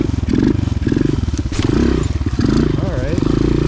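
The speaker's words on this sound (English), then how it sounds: "hop on the bike and go around the block" Suzuki DR 200 dual-sport motorcycle with a newly replaced carburetor, ridden around the block, its engine putting out a close, pulsing, throbbing exhaust note that rises and falls under a voice talking over it.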